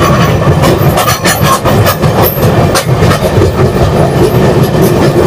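The 12278 Puri-Howrah Shatabdi Express runs at about 120 km/h, a loud continuous rushing roar with rhythmic clickety-clack of wheels over rail joints, recorded from on board with no talk.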